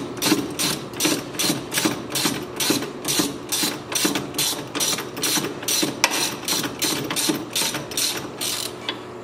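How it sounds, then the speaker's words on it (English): A ratchet wrench loosens the bottom bolt of a car coilover, giving a long run of rapid, evenly spaced metallic clicks in quick bursts, close and clear with no talk. "And loosen this bottom bolt."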